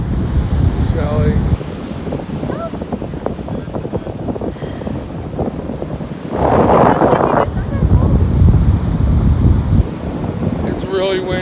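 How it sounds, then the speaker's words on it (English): Strong gusting wind on a beach buffets the microphone in a constant heavy roar, with surf faintly underneath and a person talking through it. "It's really windy, like unmanageably windy. We're on the beach"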